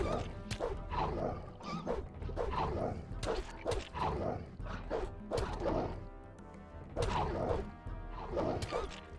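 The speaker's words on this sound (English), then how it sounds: "Leave me alone, dog!" A dog in the Gothic 2 video game barking repeatedly, a series of loud close barks in irregular bursts mixed with clattering game noises.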